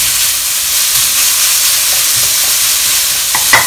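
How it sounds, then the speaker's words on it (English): Chicken stir-frying over medium heat in a pan for Thai basil chicken, a steady close broadband sizzle and hiss running throughout, with a few faint scrapes of stirring near the end. "I'm frying this over medium heat. Make sure you spread out the chicken."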